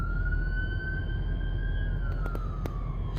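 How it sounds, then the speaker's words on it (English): Emergency vehicle siren wailing steadily in the distance, a long sustained tone that slowly rises and then falls away as it passes, over a low background rumble with a few faint clicks. "I hear sirens."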